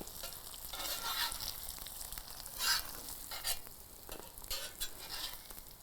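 Eggs frying in butter in a hot pan right after being flipped, a steady crackling sizzle with a few brighter pops and spatula scrapes, close and continuous with no one talking.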